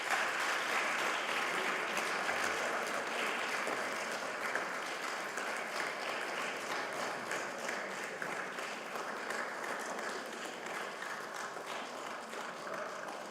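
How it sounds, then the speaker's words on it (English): An awards-ceremony audience applauds the laureates of the 2024 Women in Science Baltic Fellowship in a hall, sustained even clapping from many hands that fades slightly toward the end. "And applause again to the laureates."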